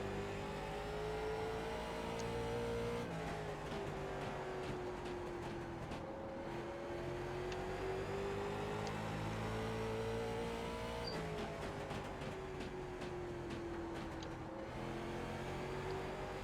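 A late model race car engine in the iRacing video game drones steadily and loud, its pitch dipping and rising as the car lifts and reaccelerates through corners on a dirt speedway, with rattling bursts at lap transitions.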